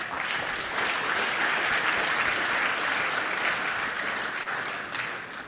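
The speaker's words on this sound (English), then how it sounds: "Let's give all of our sponsors a huge round of applause." An awards ceremony audience gives the sponsors a warm round of applause. The clapping is a dense, continuous patter from a crowd that stays steady for several seconds before tapering slightly.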